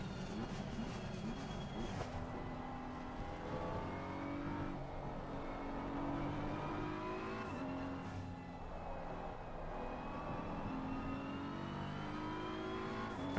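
A BMW M4 GT3 race car in a racing game drones steadily as its engine braking pitch falls and shifts into a corner, loud and continuous with no voices.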